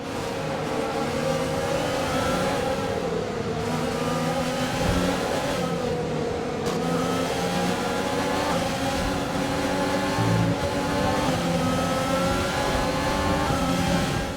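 Jordan Formula 1 car in the F1 2020 racing game, a continuous loud high-revving engine whine rising and falling with gear changes as the car races among other cars.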